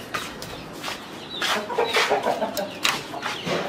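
An Aseel rooster, a Permose and Thai cross, clucks close by in short repeated throaty bursts on a farm, with no talk over it.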